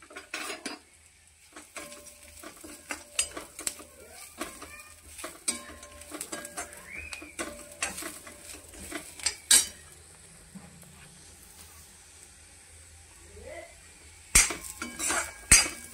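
Peanuts, sesame, mustard seeds, cumin and coconut roasting in a pan, stirred with a metal spoon that clinks and scrapes in irregular bursts over a faint sizzle, close up and quiet with no talk.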